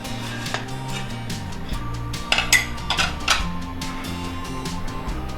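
Metallic clanks and clinks of a pressure cooker lid being handled and lifted after cooking steamed modak, a few sharp knocks in quick succession, close by.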